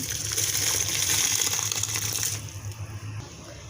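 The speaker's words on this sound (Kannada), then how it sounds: "ಐದು ಲೀಟ್ರ್ ನೀರು ಹಾಕೊಂಡಿದೆ ಅದು ಕುದೀತಾ ಇದೆ" Five litres of water in a cooking pot rushes and bubbles steadily at a rolling boil, loud and close for most of the stretch before easing down toward the end; no one speaks.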